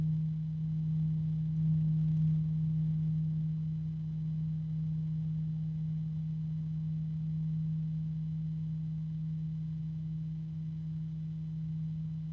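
An Arctic computer cooling fan runs with a faint, steady low hum that stays constant throughout.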